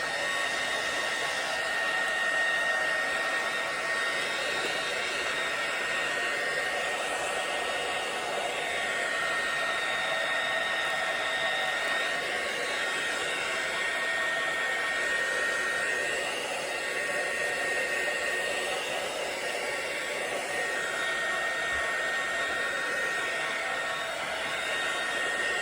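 A handheld heat gun blows hot air in a steady, close whirring hiss with a constant whine, running unbroken for the whole stretch with no speech.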